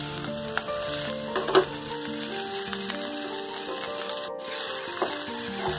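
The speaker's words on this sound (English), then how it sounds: "We will fry it until it is cooked completely." Chopped vegetables frying in oil with cumin and mustard seeds in a frying pan, a bright steady sizzle with crackles and a few stirring scrapes, close up and without talk.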